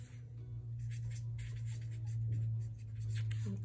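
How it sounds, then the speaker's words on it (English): Pen scratching across the pages of a paper planner, soft continuous strokes in bursts over a steady low hum, close and fairly quiet. "I'm gonna write in"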